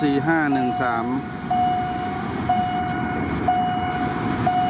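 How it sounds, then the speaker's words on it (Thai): A new Hitachi locomotive, number 4513, nears the Yommarat level crossing in Bangkok with the barriers down. A crossing signal beeps about once a second over a low, steady rumble, and a voice is heard briefly at the start. "มีรถไฟผ่านหนึ่งคันครับ รถใหม่ออกมาใหม่เลย อิตาชิ 4513"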